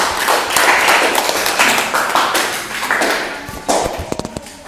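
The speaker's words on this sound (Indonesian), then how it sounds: "Oke, beri tepuk tangan untuk kelompok 1." A classroom applauds a student group after its presentation, scattered hand claps and taps rattling for several seconds at close range and tapering into a few final claps.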